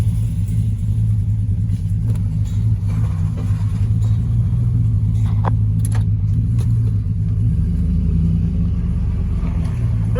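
Chevrolet Silverado truck with a Cadillac conversion driving along, a steady loud low engine and road rumble heard from inside the cab, with no talking.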